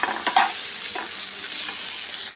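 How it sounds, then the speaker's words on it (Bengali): Tomato sautéing in hot oil in a pan, a steady close sizzle and crackle with a few soft stirring scrapes, no talking. "এই প্যানটার মধ্যে টমেটোটাকে একটু সাঁতলে নিচ্ছি"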